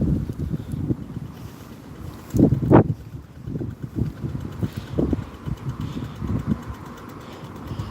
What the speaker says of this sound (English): It's also windy.